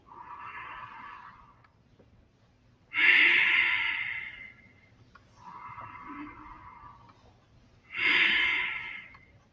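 Deep breathing during a shoulder exercise: two slow cycles of audible inhales and exhales, close and loud, alternating with quieter breaths and no talk.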